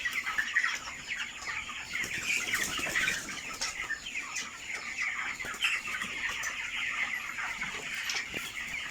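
Broiler chickens on a farm cluck and chatter in a dense, continuous flock, with bursts of wing flapping scattered throughout, close and fairly loud with no talk.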